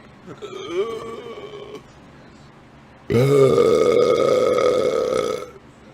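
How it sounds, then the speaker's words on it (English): A short croaky burp, then a long, loud, drawn-out belch that rumbles for over two seconds before fading. "I'm about to try and unleash a super burp."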